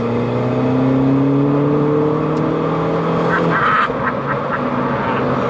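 A highly tuned turbocharged R56 Mini Cooper S making 288 bhp accelerates hard, its engine note climbing steadily and loud before it shifts, followed by a few rapid crackling pops.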